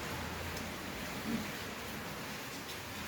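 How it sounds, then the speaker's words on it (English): Steady rain falling on a rainy morning outdoors, a continuous broadband hiss of drops at an even, moderate level throughout, with no clear voices. "You see kind of the rain ease down."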